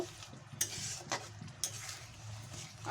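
Spoon stirring a spoonful of ginger into a spice paste in a pan, soft scraping strokes with a few sharper clinks against the metal over a low background sizzle.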